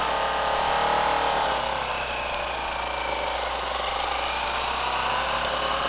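A motorcycle engine drones steadily and fairly loud, straining under load as it pulls away uphill from a stop, with no speech.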